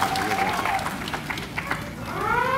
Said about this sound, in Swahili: tumpigie makofi mengi Mheshimiwa Rais. Makofi mengi.